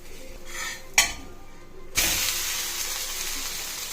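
A ragi dosa flipped on a hot pan with oil poured around it: two sharp scraping clatters from the turn, then a louder, steady frying sizzle that carries on alone.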